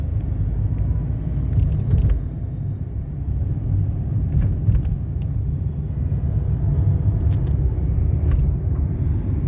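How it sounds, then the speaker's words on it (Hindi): A car engine rumbles steadily as the car pulls away in first gear during a driving lesson, with the clutch and accelerator worked together. The low, continuous drone stays close throughout, and no one speaks. "फर्स्ट गियर में ही हम क्लच के साथ एक्सीलेटर लेंगे"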